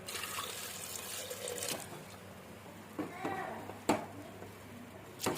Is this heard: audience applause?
no